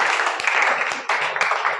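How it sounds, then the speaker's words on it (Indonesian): A classroom audience claps for a presenting group, a short burst of dense applause that briefly dips and swells again, close and lively. "kita kasih tepuk tangan untuk kelompok kedua"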